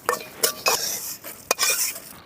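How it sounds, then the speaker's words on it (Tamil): Raw rice grains being dry-roasted in a pan for homemade sambar powder, stirred with scraping clatters and a few sharp knocks of a utensil against the metal, close and fairly loud, with no talking. "அரிசி வந்து சிவப்பாக வறுத்துக்கணும்"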